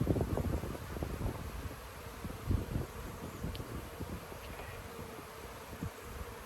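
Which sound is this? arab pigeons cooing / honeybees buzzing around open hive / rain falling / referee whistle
honeybees buzzing around open hive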